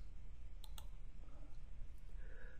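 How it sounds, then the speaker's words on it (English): A computer mouse gives a couple of quick, faint clicks close together early on, then a softer click later, against a steady low room noise while configuring tag provider software. "So let's click OK to accept the changes."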